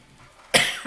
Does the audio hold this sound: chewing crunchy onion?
no